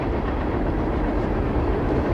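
A train rumbles past outside a 2003 high school graduation ceremony in Fairfield, Iowa, making a steady, continuous low roar that fills the whole stretch with no talk over it.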